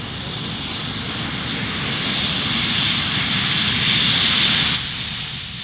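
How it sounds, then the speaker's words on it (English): Full-power roar of the small jet engines on a Jet Pitts aerobatic biplane, a steady broadband blast with a high turbine whine that swells slightly toward the end, then eases off; no voices. "So just full power on the jet engines."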